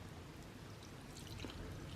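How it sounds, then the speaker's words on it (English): Barbecue sauce mixture is poured over a pork roast in a Sunbeam Crock-Pot slow cooker, producing a faint, continuous soft trickle with no talk. "So I'm going to pour half of this over the roast,"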